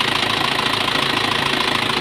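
A 1997 Isuzu Panther Hi Sporty diesel engine idles close by, a steady rapid knocking clatter with an even vibrating rhythm and no talk.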